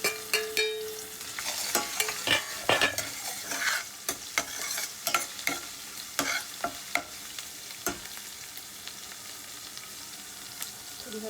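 Green chillies and ginger sautéing in a pan, with an even sizzle of frying under repeated sharp stirring clatters from a spoon, close and fairly loud with no talking.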